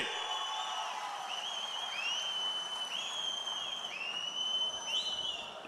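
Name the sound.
crowd clapping and cheering at a political rally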